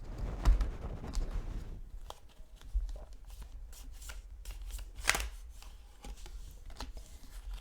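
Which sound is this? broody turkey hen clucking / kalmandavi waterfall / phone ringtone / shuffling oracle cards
shuffling oracle cards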